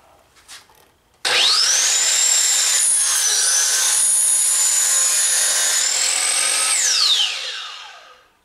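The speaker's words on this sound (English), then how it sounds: "I'm just going to make the cut with the miter saw" After a faint knock, a miter saw spins up and cuts through a wooden jig board, a loud sustained whine lasting about six seconds before the blade winds down and fades.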